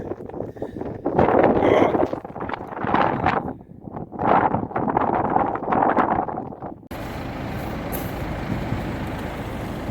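Gusty wind buffets the microphone in loud, roaring surges, then settles into a steadier rushing hiss.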